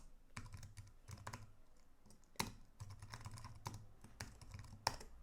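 Fingers type on a computer keyboard while entering code, with quick bursts of close clicking keystrokes separated by short pauses and a few louder key strikes, with no voices.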